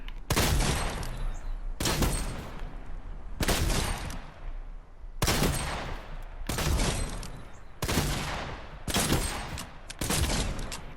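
Heavy shotgun firing in Fortnite, about eight loud booming blasts at roughly one-second intervals, each with a sharp crack and a decaying tail.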